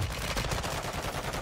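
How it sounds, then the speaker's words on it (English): Automatic gunfire in Warzone 2.0 during a night-mode match, a quick run of close, loud shots fired in a steady rapid rhythm. "I'm just getting shot by everyone"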